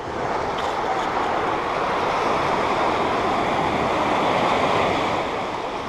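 Sea waves washing up on a beach, a steady, loud rushing wash with wind noise over the microphone and no voices.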